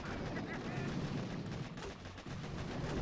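Artillery barrage in the Boom Beach Warships mobile game, a dense continuous roar of overlapping blasts and rumbling gunfire that stays loud throughout and dips briefly near the end.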